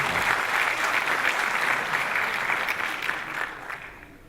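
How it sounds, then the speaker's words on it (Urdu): Audience at an Urdu mushaira in Abu Dhabi claps in welcome of a poet, a full round of applause that holds steady and then fades out toward the end. "لیکن آپ کی تالیاں ان کا وہ استقبال نہیں کر رہی"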